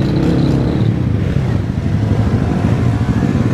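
Loud motorcycle engines rumble and rev nearby at a wheelie stunt meet in Jaguaré, Espírito Santo, a dense low growl with clattering, steady throughout.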